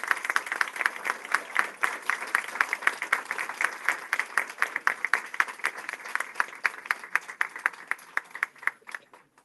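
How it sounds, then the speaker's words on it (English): Applause from the audience at a cultural heritage center grand opening, many hands clapping steadily at close range, thinning out into scattered separate claps toward the end. "give yourselves and them a round of applause for everything"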